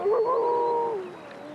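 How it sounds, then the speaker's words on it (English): A single wolf's drawn-out howl rises and wavers, then slides downward and fades, heard alone against a quiet forest background. "It turns and howls."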